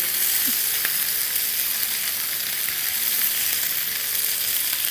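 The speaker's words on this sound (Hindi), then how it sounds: "थर्टी सेकेंड बस सौटे अभी करेंगे फ़िलहाल।" Masala and vegetables sauté in a pan with a steady, close, even sizzle that continues for several seconds without talk.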